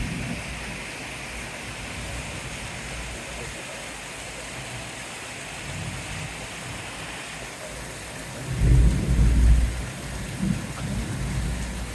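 A heavy rain shower pours steadily on the surfaces outside, with a deep rumble of thunder breaking through near the end.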